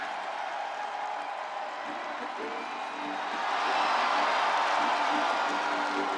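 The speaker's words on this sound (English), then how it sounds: "This crowd is absolutely loving Orton." A video game arena crowd cheers for Randy Orton in WWE 2K25, a broad steady roar that swells louder midway and holds, with a commentator's voice faintly underneath.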